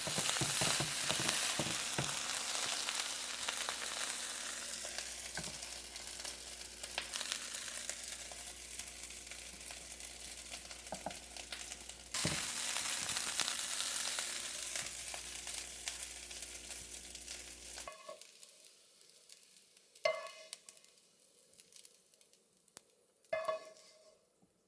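Beef fried rice frying in a pan with chopped green onions added: a steady, close sizzle and stir for most of the stretch, then the frying stops and a few sharp clinks sound in near quiet.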